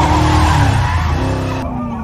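A getaway car races off with a loud close tire squeal and engine roar, the sound sliding downward and dropping sharply near the end as it pulls away.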